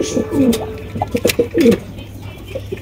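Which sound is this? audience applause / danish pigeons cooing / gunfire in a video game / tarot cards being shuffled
danish pigeons cooing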